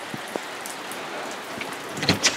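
Rain falls steadily outdoors near a shop, a soft continuous hiss with scattered louder drops and splashes close by.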